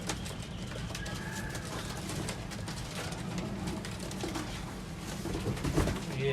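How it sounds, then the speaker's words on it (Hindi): Several Teddy pigeons coo continuously inside a cage, a dense, close, low murmuring layer of overlapping calls with no clear pauses. "ये भी टैडी कबूतर है माशाल्लाह"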